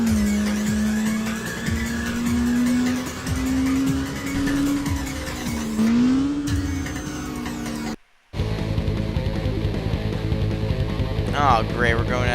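Street race car from Tokyo Xtreme Racer, facing off against an NSX; a steady rising-and-falling engine whine runs throughout with tire squeal and skidding, a short drop to silence, then more engine noise, while people talk over it.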